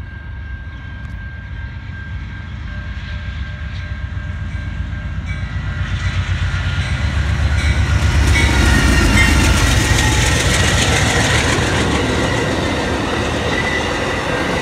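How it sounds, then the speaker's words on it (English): An Amtrak passenger train on the Holly Sub rail line approaches and passes, its rumble and rattling wheels building from moderate to very loud. A steady horn tone sounds early as the train closes in. "Another train horn."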